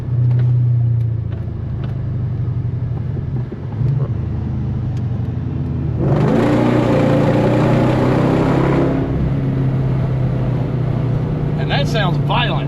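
A modified, tuned Jaguar engine revs hard, a loud roaring burst swelling for a few seconds over a steady idle rumble, with people talking around it.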